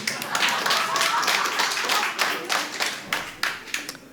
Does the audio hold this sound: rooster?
no